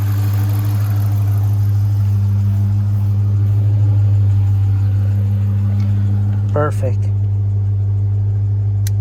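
A car engine idles with a steady low rumble throughout, close and constant, while a person briefly speaks over it near the end.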